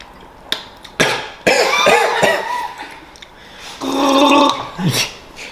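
A man coughing close up, several harsh, abrupt coughs and throat-clearing bursts in quick succession, mixed with some gasping, laugh-like sounds.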